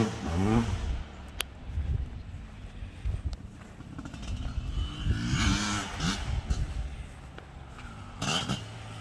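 A 1997 Honda CR500R big-bore two-stroke dirt bike engine runs nearby, its rough, uneven idle swelling into a couple of short revving bursts, with no talk over it.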